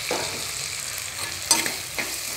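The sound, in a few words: prawn masala sautéing in pan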